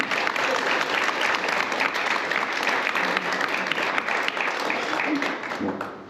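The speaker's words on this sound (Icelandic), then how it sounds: "við skulum gefa þeim alveg bara gott klapp og takk kærlega fyrir þetta" Steady, dense applause from a crowd at a forestry conference, sustained for several seconds before starting to fade at the end.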